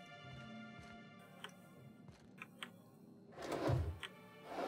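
A storage cabinet opens in the sci-fi game The Outer Worlds, a few soft clicks and thunks followed by a louder clattering rustle of wood and contents near the end, set against a steady ambient game hum.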